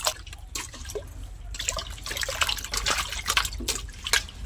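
Taro being washed in water by hand, giving irregular splashing, trickling and dripping sounds close by, with no talk.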